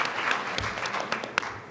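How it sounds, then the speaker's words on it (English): Scattered audience applause at a symposium on race and mental health, light and uneven with a few louder claps, faint and fairly brief. "let's give another round of applause for Dr. Maria Amaranto"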